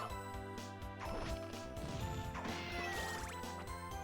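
A cat meows in the Castlevania Dominus Collection video game, with a couple of rising, wavering cries over layered game music and sound effects, fairly quiet in the mix.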